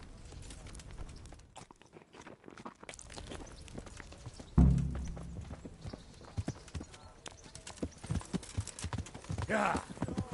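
Horse hooves clip-clopping in Kingdom Come: Deliverance, a steady walking rhythm of hoof steps close by, with game voices talking over parts of it and a louder thump partway through.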